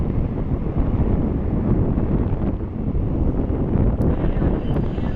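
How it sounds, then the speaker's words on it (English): A breeze blows across an airport, buffeting the microphone as a continuous broadband rush that swells and eases slightly, steady and fairly loud, with no talking. "A nice breeze right now"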